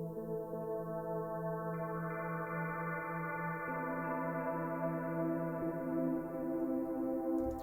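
Soft, sustained synth pads hold layered chords that shift slowly, a warm continuous wash of tone at low volume.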